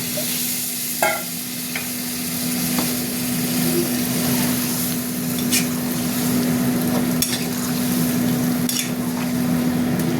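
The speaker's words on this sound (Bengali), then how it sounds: "কষা হয়ে গেছে, জল দিয়ে দিলাম" Water poured into a pan of sizzling spice masala with chillies, cooked down for a spicy jackfruit and prawn curry; a steady close sizzle runs throughout over a constant low hum, with a few faint clicks and no talking.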